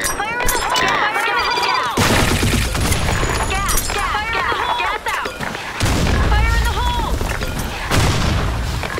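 Gunfire and grenade blasts from the shooter video game Blackshot, loud sustained bursts of shots with heavy booms near 2, 6 and 8 seconds, mixed with game voice callouts and chatter throughout.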